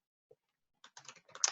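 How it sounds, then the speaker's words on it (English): Quick keystrokes on a computer keyboard while a message is typed, soft and close, arriving as a short burst of clicks after near silence. "I'm very slow at typing now."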